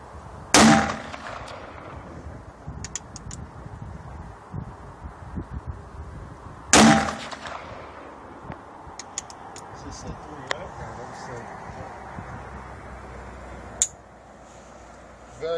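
Two loud, sharp reports from a Ruger Blackhawk .357 Magnum three-screw revolver fired outdoors, spaced about six seconds apart. Quieter clicks and handling noises fall between the shots, and people talk throughout.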